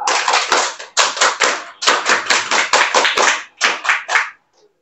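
A group performs the rhythmic scout clap, loud close bursts of synchronized hand claps in patterned groups with short pauses between, ending abruptly.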